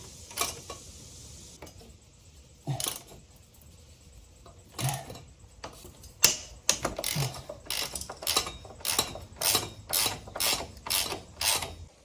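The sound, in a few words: loosening motorcycle bolts with a ratchet wrench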